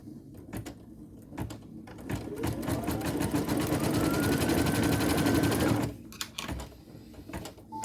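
A sewing machine stitches felt pieces for a nativity scene, a steady fast run of close, loud stitching that starts after a few light handling clicks and stops near the end. Short handling knocks follow.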